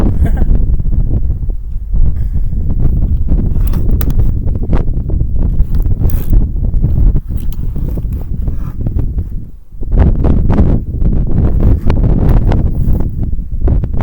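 Strong outdoor wind buffets the microphone with loud, constant low rumbling and gusty roar throughout, briefly easing near the ten-second mark.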